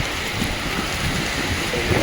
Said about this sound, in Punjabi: ਮੀਂਹ ਬਹੁਤ ਜ਼ੋਰ ਦਾ ਹਵਾ ਕਰਕੇ ਮੀਂਹ ਜ਼ਿਆਦਾ ਮਾਰ ਕਰਦਾ ਹੈ